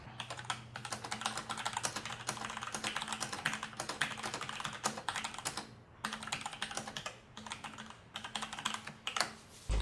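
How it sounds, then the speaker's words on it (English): Rapid, steady typing on a Logitech G613 wireless mechanical gaming keyboard clatters nonstop, the keys clicking crisply and close up, with only brief pauses. "and here's a typing test."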